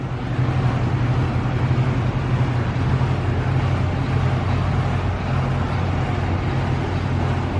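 Honda Civic EF with a K20 engine and titanium exhaust idling, a loud, steady low drone with a constant burbling hum, close to the tailpipe and with no talking.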